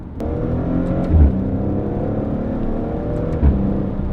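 A Maserati Ghibli S GrandSport engine hums steadily under load while upshifting between 2000 and 3000 rpm, with a couple of brief clunks as gears shift, the tone steady and close.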